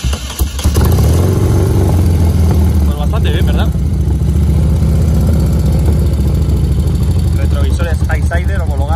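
A BMW R100S motorcycle engine started with the choke up, running loud and close with a steady, throbbing idle that dominates throughout while someone speaks Spanish over it.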